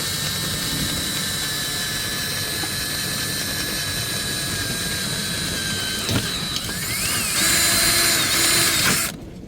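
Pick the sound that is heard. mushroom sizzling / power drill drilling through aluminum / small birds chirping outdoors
power drill drilling through aluminum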